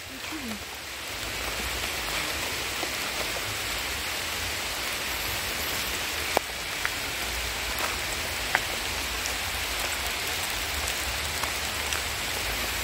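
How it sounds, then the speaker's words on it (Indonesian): Steady rain falls outdoors in a village, a dense continuous hiss of drops on surfaces, close and even throughout, with a few sharp taps standing out and no voices. "ini benar-benar hujan loh"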